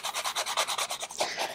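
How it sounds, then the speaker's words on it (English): A sanding block lightly rubs across embossed sheet metal in quick, even back-and-forth strokes, about a dozen close raspy swishes alone. "I'm going to use a sanding block"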